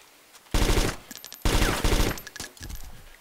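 Gunfire in the video game DayZ: two loud, close bursts of rapid automatic shots, each lasting about half a second, separated by a short gap and followed by fainter trailing noise.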